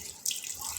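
Water splashes and runs steadily in a short hiss, close by, like water poured over leaves.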